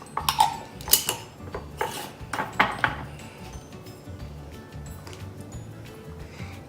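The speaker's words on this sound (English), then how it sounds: "After, you just put the lid on." A lid being fitted onto a glass jar of cream for homemade butter makes a cluster of sharp clinks and scraping clatter, then settles into quieter handling noise.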